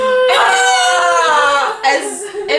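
A voice mimics a spinning top teetering from side to side: a drawn-out humming whir that breaks into short, uneven wobbling bursts as it tips over, close and loud.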